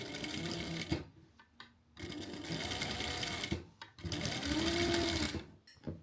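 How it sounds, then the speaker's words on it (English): A sewing machine runs a flat stitch along the small side of thrift store clothing, several rapid close bursts of stitching separated by short pauses. "Now I will do the flat stitch on the small side."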